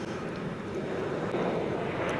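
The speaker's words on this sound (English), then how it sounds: "Beautiful airplane sounds." A fixed-wing airplane passes overhead outdoors, heard as a steady, distant broadband engine roar with faint wind noise and no speech.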